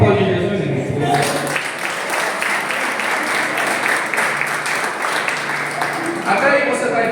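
A church congregation claps together in a sustained, even burst of applause lasting several seconds, with a voice heard briefly at the start and again near the end.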